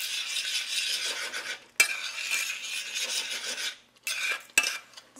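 Partridgeberries (lingonberries) and sugar stirred in a pot, close gritty scraping strokes in steady runs broken by two sharp clinks of the spoon against the rim.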